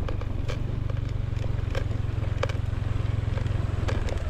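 A new motorcycle with new tires cruises along a road toward a distant place, its engine a steady low drone running close and even throughout, with faint clatter and scraping over it.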